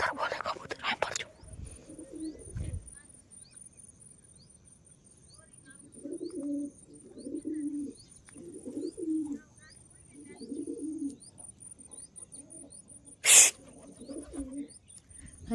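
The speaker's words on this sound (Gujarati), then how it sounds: "કબૂતર બોલે મિત્રો, કબૂતર બોલે" On a farm, a pigeon coos in a slow series of soft, rounded, throaty calls repeating at a steady rhythm, fairly close, over quiet outdoor background noise with a few faint chirps and brief handling bumps.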